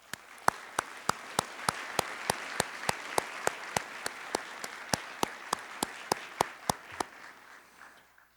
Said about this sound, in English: Please join me now in thanking all of these musicians and students for their special contribution with a really warm round of applause.